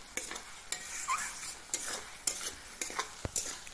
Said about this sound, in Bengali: এটাকে সুন্দর করে ফ্রাই করতে হবে ততক্ষণ পর্যন্ত, যতক্ষণ পর্যন্ত ভালো করে ফ্রাই না হয়ে যায়